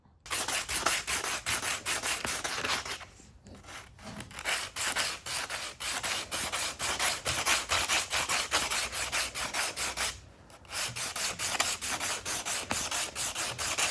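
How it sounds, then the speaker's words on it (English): Sandpaper rubbed by hand over a repaired cracked engine cylinder, a steady rhythmic scraping of quick back-and-forth strokes, loud and close, broken by two short pauses. "So I'm going to hand sand this."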